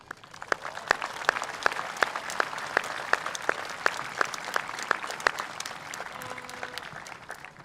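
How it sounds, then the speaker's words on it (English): Audience applause at a graduation ceremony honoring retiring staff, a steady spread of clapping from a large room, moderately distant, with a few sharper claps standing out and no speech. "Please join me in a round of applause thanking them for their dedication"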